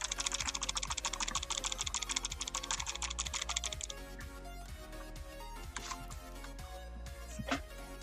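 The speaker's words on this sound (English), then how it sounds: "There's a very noticeable rattle" A Hcman X90 gaming mouse in glossy plastic is shaken, giving a fast, dense clicking rattle for about four seconds before it thins to a few scattered ticks, heard close up with no talk.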